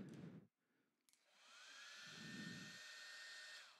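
A hair dryer switches on and blows a steady, loud stream of air for a few seconds, its whine holding an even pitch after a brief start.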